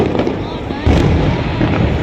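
Fireworks display over Al Majaz in Sharjah, UAE, heard as a dense, continuous rumble of bursts and crackle, loud and sustained, with people talking nearby.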